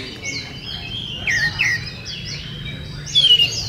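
Competition magpie-robin (kacer) from Java sings at a bird contest, giving repeated bright whistled phrases and chirps at moderate distance over a steady background murmur of a crowd.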